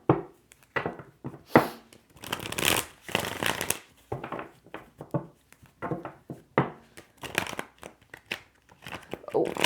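Tarot cards being shuffled up close, with repeated riffles and soft slaps in an uneven rhythm, while a voice speaks now and then.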